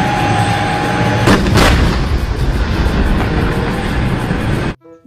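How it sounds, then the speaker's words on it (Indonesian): Toy steel tank firing effect, a loud continuous crackling roar with a couple of sharp bursts early on, cutting off abruptly near the end into near silence. "Mobil tank baja, teman-teman."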